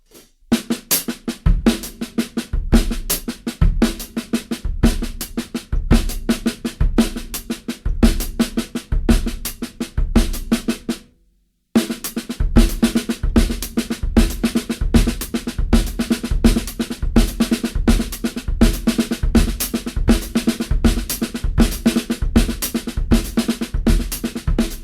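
A drum kit plays a steady fast groove with a fill, the accent moved between hi-hat and snare, dense close hits driving continuously for about eleven seconds, a brief silence, then the pattern resuming just as busily.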